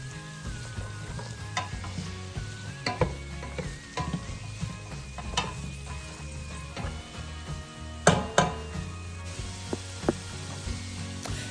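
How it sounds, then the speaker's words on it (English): Vegetables for a cheese soup sautéing in a pot, a soft continuous sizzle broken by irregular knocks and scrapes of a stirring utensil, with a louder clatter near the end. "continue stirring it around so everything can be"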